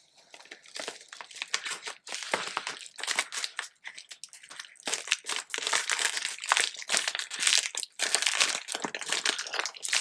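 Metal snips cutting and ripping open the cardboard and plastic packaging of a quilting fabric subscription box, with irregular bursts of crinkling, crunching and tearing close by.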